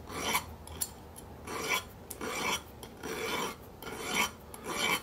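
A steel lockpick is worked with a hand file in rhythmic forward strokes: about seven dry, gritty rasps, each lasting under a second with short pauses between, close and clear.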